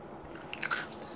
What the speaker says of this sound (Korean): 또 나타났네, 과자가. 내가 먹어줄게.